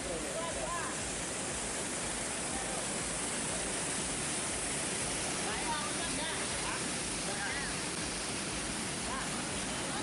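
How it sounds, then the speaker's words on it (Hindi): Cold waterfall spray pouring down onto the Oyo River in a green Indonesian valley during river tubing, a loud, steady, dense rushing roar that fills the whole clip without pause. "इन झरनों की ठंडी फुहारों के नीचे से निकलना बेहद रोमांच भरा है।"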